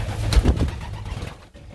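Young pigeon nestmates coo softly and close by in a short, low, throaty burst that fades out quickly.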